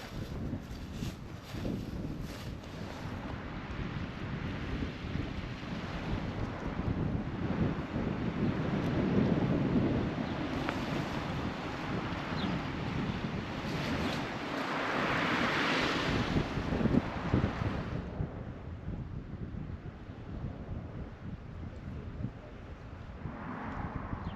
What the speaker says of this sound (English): I'm just going to have a little wander onto the beach and have a good look at the sea.